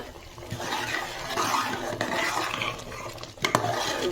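A spice mixture is stirred in a cooking pot, making a wet, churning scrape with light clinks of utensil against metal and a sharper knock near the end.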